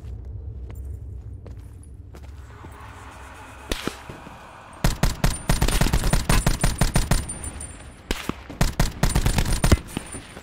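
A Call of Duty Blackout fight in Ghost Town opens with a few scattered shots, then gives way to rapid, loud automatic gunfire that rattles in dense bursts for several seconds and pauses briefly before a final volley.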